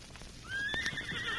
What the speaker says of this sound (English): Oh, what a nice big horse.